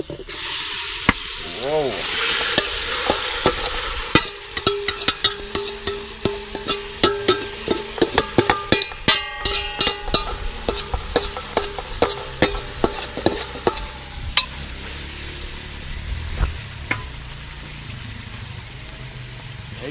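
Goat meat for curry goat frying in a hot pot, a bright sizzle with a long series of sharp scraping stirs that comes fast in the middle and thins out, and a brief exclamation near the start.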